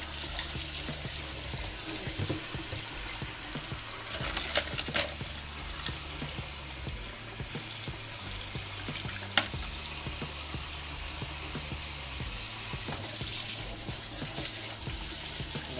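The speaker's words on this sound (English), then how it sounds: "go ahead and just give those a quick rinse" Brushes and combs rinsed under a running tap, a steady close rush of water with occasional clatters and knocks as the items are handled in the stream.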